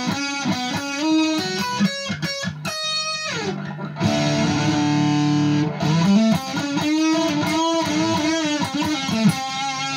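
Fender Strat on its bridge pickup, played clean through a Deluxe Reverb amp: bright single notes and short runs with ringing overtones, close and clear, with no talking.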